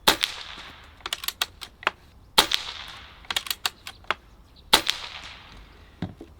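Barra 250z air rifle firing pellets at a backyard target: sharp, clear shots, each followed by a brief metallic ring, repeating in quick bursts with short pauses between strings, close and fairly loud with no talking.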